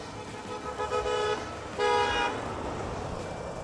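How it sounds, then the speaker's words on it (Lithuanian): Car horns honk on a road: two sustained blasts, the second louder and closer, over a steady rumble of passing traffic. "Labai pypsinama"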